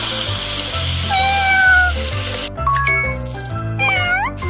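Cartoon cat meowing in a children's dress-up and bath-time video game, several short rising and falling meows over a busy, bright game soundtrack with jingly effects.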